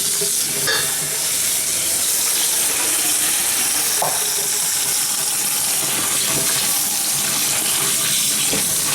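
Kakai hulless pumpkin seeds being rinsed under a running kitchen tap, a steady close wash of water with faint stirring and clicks of seeds against the sink, no talking.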